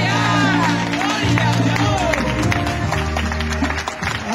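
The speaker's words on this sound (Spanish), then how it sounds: "Le damos un aplauso al Señor." Church congregation at an evangelistic campaign in Paola applauds, dense clapping and cheering over a sustained musical backing, loud and continuous throughout.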